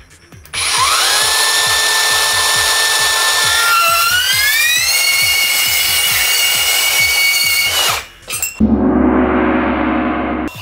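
A HiKOKI 36V cordless band saw, model CB3612DA, cuts in auto mode with a loud, steady whine and motor hum whose pitch rises partway through the cut. The saw winds down at the end, and a short low clunk follows.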